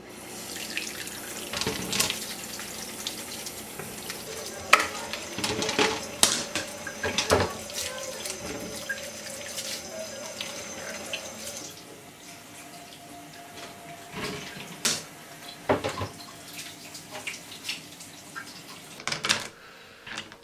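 Tumbled rocks are washed in water at a sink, with running water from a tap, splashing and clattering of stones and dishes in uneven bursts, close and moderately loud over about twenty seconds.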